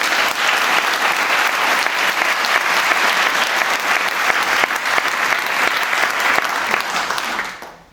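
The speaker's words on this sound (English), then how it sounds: "I'm sure you'll join me in extending a round of applause to them for that purpose" Sustained applause from an audience at an evening gathering in a synagogue, honouring the security team and police: dense, loud, steady clapping that fills the room for about seven seconds, then fades out near the end.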